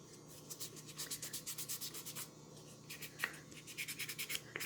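Chalk paste is buffed on an ornament cut from a Chalk Couture Christmas tier tray piece, making quick, quiet rhythmic rubbing strokes in a close, soft back-and-forth pattern with a brief pause partway.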